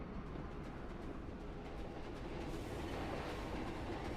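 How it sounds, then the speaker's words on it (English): A train rumbles steadily through a terrain cove in the video game Planet Coaster 2, its dense, continuous low roar and rattling carrying loud and close for the whole stretch with no talk over it. "for the train to pass through"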